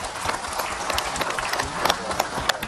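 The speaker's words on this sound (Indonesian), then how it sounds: "Tepuk tangan buat Kak Nabila." Audience applause for Kak Nabila at an Islamic religious talk, a moderate, scattered patter of clapping from a crowd, fairly even throughout with a few sharper claps standing out.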